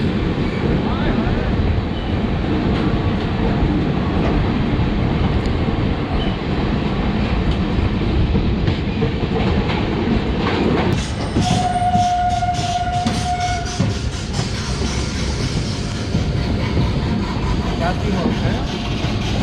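The Amritsar–Jaynagar Express passenger train rumbles past close by, wheels clattering loudly and continuously, with a brief horn sounding midway through the pass.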